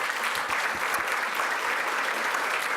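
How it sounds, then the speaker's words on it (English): Applause for a congressman from a forum audience, a steady, even patter of many hands clapping throughout, moderately loud and without talk over it. "So let's give him applause on that."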